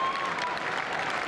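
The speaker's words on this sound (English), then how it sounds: "a generous round of applause there for the South Africans" A stadium crowd at a 1995 Rugby League World Cup match between Australia and South Africa applauds in a dense, steady wash of clapping, loud throughout with a commentator's voice faintly underneath.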